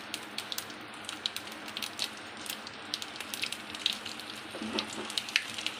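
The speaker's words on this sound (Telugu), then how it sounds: "ఇప్పుడు మనం గీలోనే దీన్ని తాలింపు వేసుకుందాం" Mustard seeds, cumin and dried red chillies crackle and sizzle in hot ghee as a South Indian tempering for bisibele bath, with a steady fry hiss and frequent sharp pops, close by.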